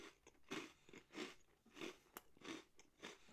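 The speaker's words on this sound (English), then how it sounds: "It's got a great crunch." A soy sauce rice senbei cracker is crunched up close in steady, evenly spaced bites, each a dry crackling burst, with no talking.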